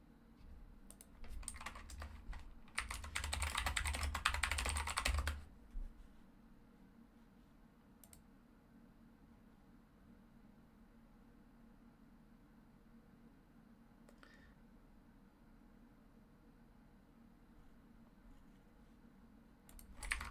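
Computer keyboard typing up close, a quick burst of dense clacking keystrokes for a few seconds that then falls into near silence, with only a faint stray click later on.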